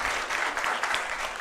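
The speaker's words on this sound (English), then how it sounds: "make a very big clap for the ma'am" Audience applause at an international commerce conference in a college department hall, a dense, steady burst of many hands clapping, close and loud throughout the short stretch.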